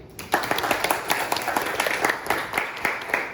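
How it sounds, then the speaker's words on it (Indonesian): Students in a classroom clap for a classmate, a short burst of distinct, fairly loud hand claps from a small group that starts abruptly and continues unevenly for a few seconds. "Oke, tepuk tangan tuh Heri."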